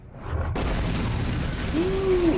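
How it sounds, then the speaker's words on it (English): A sudden loud boom bursts in after a brief quiet moment, followed by a rumbling roar and a short whistling tone near the end, from Star Wars: The Clone Wars. "look at that rainbow explosion"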